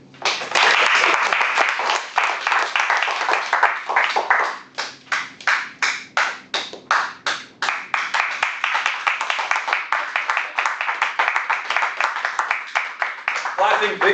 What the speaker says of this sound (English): Clapping vigorously can also help you warm.